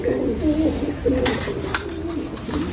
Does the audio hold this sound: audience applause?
no